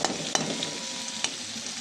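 Catla fish fat frying in a pan gives a steady, close crackling sizzle throughout, with a few sharp pops standing out. No one speaks.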